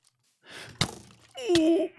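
A Minecraft skeleton's arrow strikes the player with two sharp thunks, close together, followed by a short groan or gasp of surprise.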